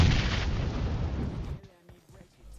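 Gunfire in PUBG Mobile: a dense, loud burst of heavy shots and booms that cuts off after about a second and a half, leaving a quieter tail with faint clicks.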